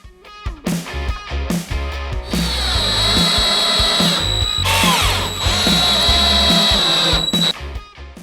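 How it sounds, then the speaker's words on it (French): A Parkside power drill drives screws into wooden slats of a DIY lounge chair, whining in repeated loud bursts that start and stop, with a long sustained run in the middle and no talking. "on passe maintenant au vissage"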